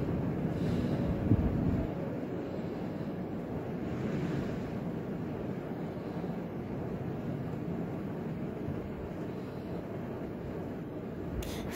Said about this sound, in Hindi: देखिए कितना अच्छा लहर उठ रहा है